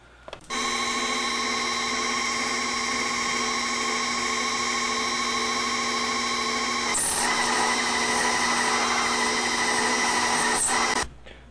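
Lathe machining the face and diameter of a metal part for a remote-controlled Cat D8H model, giving a steady, loud whining drone with a continuous tonal hum that shifts slightly midway before stopping abruptly, no voices.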